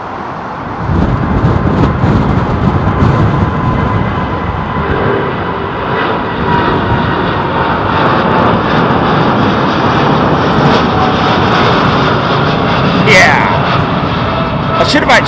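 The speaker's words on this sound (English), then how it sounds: "the Korean 747 coming in at Heathrow" A Korean Air Boeing 747 on approach to land at Heathrow Airport on a hot June day, heard as a loud, sustained engine roar close overhead that holds steady throughout, with a voice talking over it.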